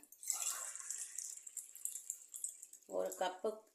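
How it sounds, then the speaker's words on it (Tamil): Water poured into a pot for millet pongal, a continuous splashing pour through most of the stretch, with a voice talking near the end. "இதில் 4 கிளாஸ் தண்ணி ஊற்றிக்கிறேன்."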